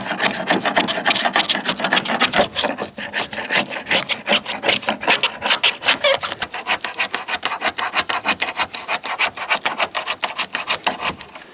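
A standard screwdriver scraping old trunk weatherstrip out of a W126 Mercedes-Benz S-Class trunk lid, a steady run of rapid, rhythmic rasping strokes, close and loud throughout.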